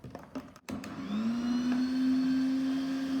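An electric mixer creams Valentine's heart cake batter tinted with red food colouring, a steady close motor whine that starts after a brief pause and holds loud and even to the end with no talking.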